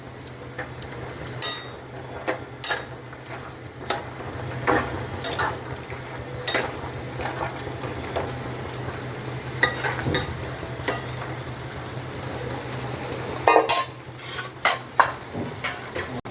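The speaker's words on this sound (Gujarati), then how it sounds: "પાપડ નાખી દઈશું મિક્સ કરી લઈશું અને થોડી વાર થવા દઈશું" A spoon stirs papad curry in a pan in the Gujarati style, giving repeated sharp scraping clicks against the metal over a low, steady sizzle, no speech.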